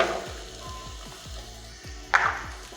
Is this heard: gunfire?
no